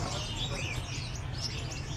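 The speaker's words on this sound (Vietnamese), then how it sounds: "À, đang hót hút mật này, chơi đầy hút mật này." Sunbirds sing at a Hanoi bird market, their thin high chirps repeating over a steady low crowd and traffic rumble that stays constant throughout.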